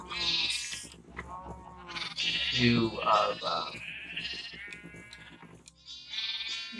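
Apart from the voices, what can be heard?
sheep bleating in video game Minecraft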